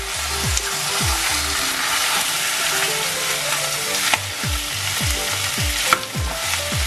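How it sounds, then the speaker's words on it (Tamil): Marinated bone-in chicken, a full kilo, hits browned onions in a hot biryani pot, giving a loud steady sizzle with scraping stirs and clinks throughout. "இது மேரினேட் பண்ண சிக்கன் 1 கிலோ சிக்கன் போனோட இதை இப்போ போட போகிறேன்"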